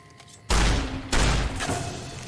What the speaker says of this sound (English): I'll use shotgun.